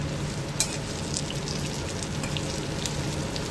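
Stuffed brinjals sizzle steadily in a pan over a low flame, a continuous soft frying crackle with occasional small pops, close and alone without any voices.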